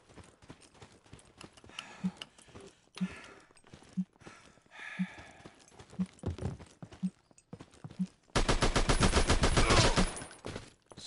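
Gunfire from a gun in the VR shooter Alvo comes as sharp single shots about once a second, then breaks into a dense, loud burst of rapid automatic fire near the end.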